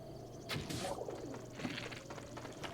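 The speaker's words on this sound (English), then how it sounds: "Well, pigeon." A pigeon cooing in the video game Zelda: Breath of the Wild, soft low coos repeating a few times at a fair distance over quiet ambient game sound.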